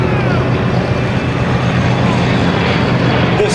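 An airplane powered by a 3350 radial engine of about 2,700 horsepower flies at an air show, giving a loud, close, continuous engine drone that stays steady throughout.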